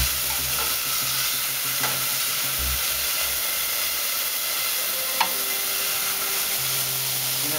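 Mushrooms sauté in a pan with a loud, steady sizzle and hiss as their liquid cooks off, with a couple of faint scrapes of a utensil, close up.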